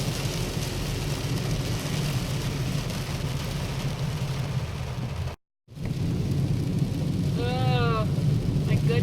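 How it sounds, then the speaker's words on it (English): Heavy rain drums steadily on a car driving along a busy Oregon road in a rainstorm, a constant dense wash of noise broken by a brief dropout, with a short burst of voice near the end. "So much traffic and so much rain."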